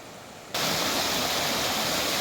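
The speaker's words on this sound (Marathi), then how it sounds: "बघा पाण्याचा कसा आवाज येतोय" Clear water rushes steadily along a village stream in Mur, Ratnagiri, in the Konkan. After a short quiet moment a loud, continuous hiss of flowing water cuts in sharply and carries on unbroken.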